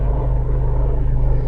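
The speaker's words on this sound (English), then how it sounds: "That's this helicopter." Helicopter flying overhead at an outdoor cricket match, a steady, loud low rotor and engine rumble filling the whole moment without pause.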